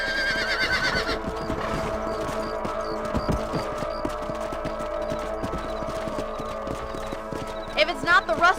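Hooves clip-clop steadily as a horse is ridden in Red Dead Redemption, a horse whinnying at the start and again near the end, with game music and voices running underneath.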